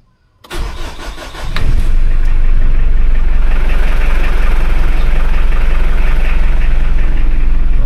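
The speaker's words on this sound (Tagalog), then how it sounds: "So yan, subukan natin yung start." Mitsubishi L200 Strada engine started after a starter repair: a brief starter crank catches almost at once, then the engine revs up and settles into a loud, steady, close idle with a slight knocking rumble.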